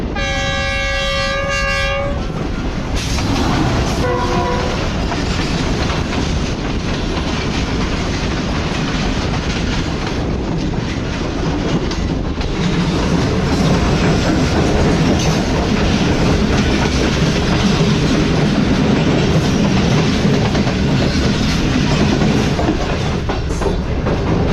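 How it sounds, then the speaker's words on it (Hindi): A passenger train led by a GU40 locomotive passes close by, opening with a loud horn blast, then a steady heavy rumble and rhythmic clatter of coaches rolling past, loud throughout. "तो एक पैसेंजर ट्रेन आ रही है डाउन में, GU40 ट्रेन के लीड पर लगा हुआ है"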